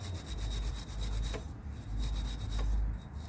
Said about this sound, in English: wire brush